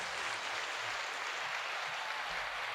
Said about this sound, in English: Well, you get claps.